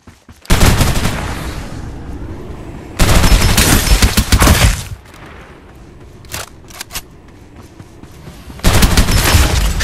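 Gunfire from the battle video game Farlight 84 comes in loud, dense automatic bursts separated by short lulls, with a few sharp isolated shots in between.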